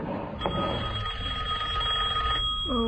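A telephone rings alone in a quiet room, a loud, close electronic ring that holds for about two seconds and then starts again.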